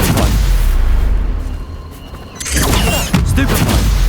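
Spell explosions in Hogwarts Legacy, dense booming blasts and rumbling impacts filling the scene, a sustained loud roar that dips briefly and then surges again with crackling debris.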